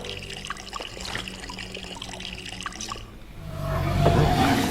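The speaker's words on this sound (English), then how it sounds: "pour the sleeping potion on its tongue before that gargantuan mouth engulfs us" Sleeping potion poured from a vessel in the PS3 game Wonderbook: Book of Potions, a steady watery trickle and splash that swells louder toward the end, with no voices over it.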